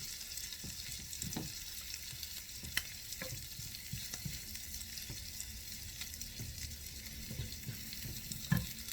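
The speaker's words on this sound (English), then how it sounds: "I really just need to cook the garlic and warm it through" Garlic cooking in a frying pan, being warmed through and lightly smashed, gives a steady faint sizzle with scattered small scraping and tapping sounds, including a sharper knock near the end, with no talking.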